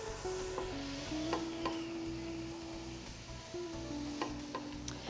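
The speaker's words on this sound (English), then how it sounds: "let's just let that saute for about 5 minutes until the vegetables start to get nice and soft" Chopped vegetables and ginger root sautéing in a pan for pork vindaloo, a soft continuous sizzle with faint stirring scrapes, fairly quiet and partly masked by a steady background tone.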